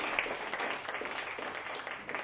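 Audience applause at a sustainability forum as panelists are called to the stage, a continuous even clapping from a room full of people with no talk over it.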